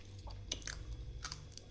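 Pet bird chewing a piece of celery, faint close crunches and soft nibbling clicks in a few brief bursts against quiet background hum.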